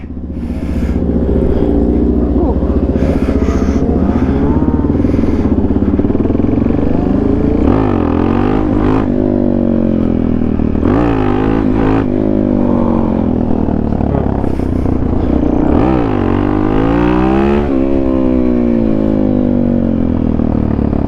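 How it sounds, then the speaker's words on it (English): A Suzuki DRZ dirt bike engine runs loud and steady throughout, rising and falling in pitch with repeated revs as the bike is ridden, close and continuous with no talk. "It feels really weird being on a dirt bike again"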